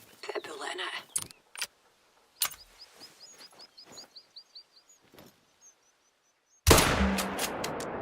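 A single loud rifle shot rings out in the hunting game theHunter: Call of the Wild, set in the Scottish Highlands, with a long rolling tail after brief talk and quiet rustling.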